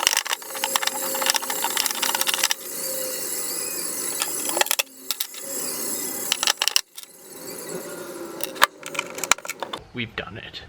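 A ratchet clicks in bursts as bolts are tightened on the frame rail supports of a Mazda Miata roll bar install, with metallic clinks, jangling and handling noises close by and some talking in between.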